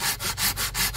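A large tree is cut for firewood with a hand saw, a quick, regular series of rasping strokes close by, about five pulls in a second, with no talk.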